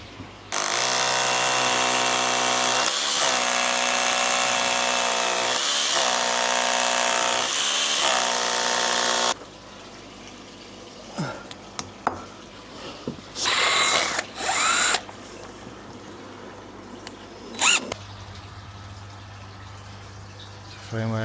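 A power drill drives fixings to secure a length of 4x2 timber to a wall while framing a koi pond roof, giving a loud, steady whine for about nine seconds, followed by scattered knocks and brief bursts of handling noise.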